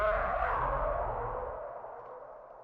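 Raw, unprocessed alien dragon roar layer made from squeaky dog toys: a single sustained, breathy roar that starts loud and slowly fades over a couple of seconds, heard alone.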